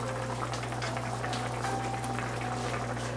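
Potato curry bubbling at a steady boil in a pot, a dense continuous simmering hiss with a constant low hum underneath, close and even throughout with no talking.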